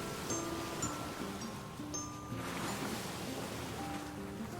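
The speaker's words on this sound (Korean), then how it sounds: "그런데 갑자기 높은 파도가" Ocean waves surge and wash in a continuous, moderately loud roar of surf and water, used as a storybook sound effect for high waves striking a small boat at sea, with no voices.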